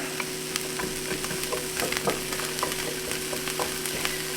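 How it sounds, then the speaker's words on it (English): Onions tossed into a reused pan fry with a steady, close sizzle, broken up by frequent light scrapes and clicks of stirring throughout. "cook our onions real quick. Alright, same pan. Just throwing them in there."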